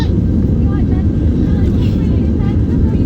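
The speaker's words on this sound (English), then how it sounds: "There's the surge of thrust." A loud, steady roar of British Airways airliner jet engines at full takeoff thrust, a dense rumbling wash of noise that holds constant throughout.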